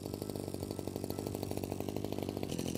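Active ST25B petrol brush cutter, new and well carburetted, idling after the choke releases: a close, steady, rapid putter with a fast even pulse and no voices.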